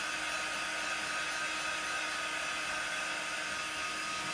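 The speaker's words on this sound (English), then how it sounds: "you can use a hairdryer or a quick dry tool" A hair dryer runs steadily at close range, blowing a constant broad whooshing roar as it dries fabric ink, with no talking over it.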